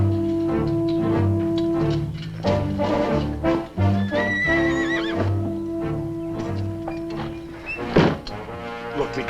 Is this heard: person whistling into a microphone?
no